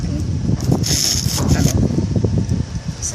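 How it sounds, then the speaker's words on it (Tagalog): Strong wind buffets the microphone in a steady, loud roar with gusty bursts, broken by rustling and handling noise, outdoors on a trip to Hsinchu City. "Basta malakas talaga ang hangin."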